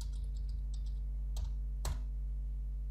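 Fingers tap on a computer keyboard while entering Python code: a run of light, quick clicks followed by two sharper, louder keystrokes, close to the mic, over a steady low electrical hum, with no talking.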